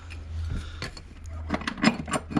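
A ratchet wrench tightens the 12mm battery clamp bolt on a 2003 Volvo XC90, giving a series of quick metallic clicks close by over a low steady hum.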